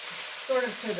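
Tomatoes and green beans simmer in a pot for Greek fasoulakia, giving a steady soft sizzle and bubbling with a few brighter spits, close and continuous with no talk.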